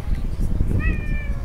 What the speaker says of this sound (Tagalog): Dito yung pusa ko mataba.